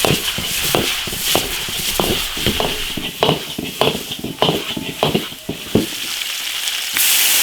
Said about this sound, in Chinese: 把腊肉炒香，放点大蒜，加入豆腐，